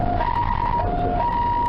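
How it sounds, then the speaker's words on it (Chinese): An ambulance siren arrives at a road accident scene in Miaoli where a motorcycle hit a power pole, its two-tone wail alternating steadily over the low rumble of traffic, loud and close, with no talking. "救护车紧急到场"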